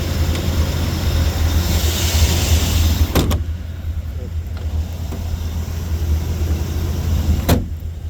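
A restored 1980 Chevrolet Corvette rumbles steadily from inside the cabin on a test drive, a constant low engine and road drone with a couple of sharp clunks and faint voices underneath.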